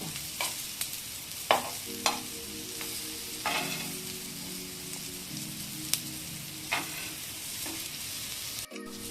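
Pomfret fish pieces fry in a pan with a steady, rain-like sizzle, punctuated by a few sharp utensil taps and scrapes and a brief low tonal hum, close and fairly loud, with no talk.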